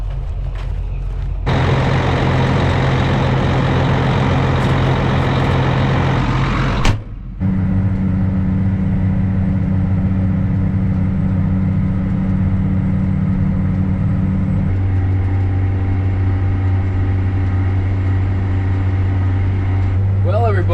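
A tractor pulling a cultivator roughly 41 feet wide drives through a sunflower field, its loud, steady engine drone changing pitch a few times. A brief dip in the sound comes around seven seconds, and a person talks over the engine.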